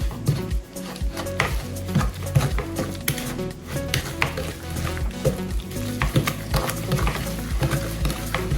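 Batter for a yogurt cake is stirred by hand in a bowl, with steady scraping and clinking of a utensil against the sides, close and continuous with a rhythmic texture.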